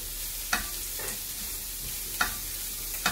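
Mussels frying in a pan, a soft steady sizzle broken by three sharp stirring scrapes spaced out over a few seconds, close and moderately quiet.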